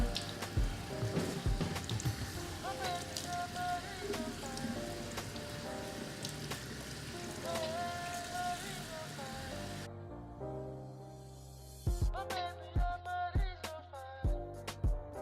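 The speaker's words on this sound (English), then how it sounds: "So today I'm gonna start by rinsing the hair." Running water rinses the hair of a wig, a steady splashing patter with drips that thins out briefly before the heavier splashing returns, and no voices.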